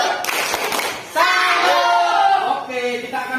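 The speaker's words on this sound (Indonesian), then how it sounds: "tepuk tangan untuk kita semua" A class of primary school children applauding together in a classroom, a dense burst of clapping and cheering that swells after a brief dip and fades near the end.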